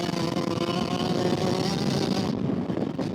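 A Yamaha YZ125X 125cc two-stroke dirt bike held at wide open throttle, a loud, steady, buzzing engine roar that stays constant before easing off near the end.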